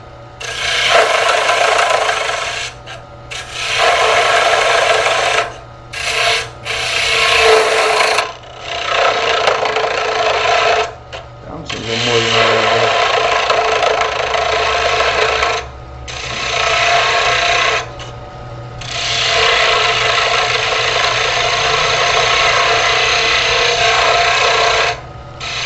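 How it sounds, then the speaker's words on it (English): A bowl gouge cuts wood on a lathe, giving repeated loud raspy scraping passes of a few seconds each, separated by brief pauses, with the motor hum running underneath and no talk. "Take the bowl gouge and we're gonna reduce the weight that I don't need."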